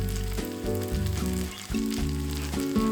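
Tuna kimchi pancake batter frying in plenty of cooking oil in a frying pan, giving a loud, steady sizzle and crackle with a few sharp bubbling pops. A low tonal hum sits underneath.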